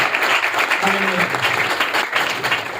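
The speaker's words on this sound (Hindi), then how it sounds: "आइए जोरदार ताली बजाएं, जोरदार ताली बजाएं, जोरदार।" Loud, dense applause from a church congregation, sustained throughout, with a voice briefly audible beneath the clapping.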